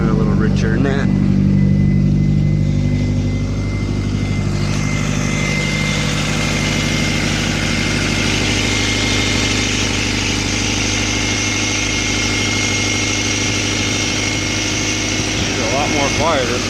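A BMW B20 turbo engine fitted with new cams revs briefly and then settles into a loud, steady idle, close by, with voices talking over it at times.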